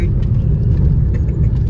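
A car cruises along a highway on a road trip, a loud, steady, close road rumble heard from inside the vehicle.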